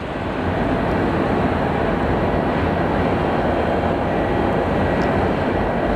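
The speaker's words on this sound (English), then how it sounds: "our Air Canada MAX from Vancouver is coming in" An Air Canada Boeing 737 MAX arriving from Vancouver at Sky Harbor Airport, a loud, steady broadband jet roar that holds constant for the whole stretch without any talking.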